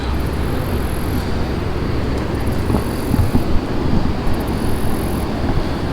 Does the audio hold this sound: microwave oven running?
no